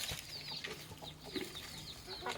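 Chickens peck and eat bran scattered on a plate around midday, with quiet clucks and soft pecking taps close by, faint and low in level.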